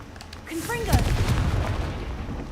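A Confringo fire spell blasts off in Hogwarts Legacy, a short whooshing burst with a low rumbling boom that lingers briefly, heard close and loud over a steady game background.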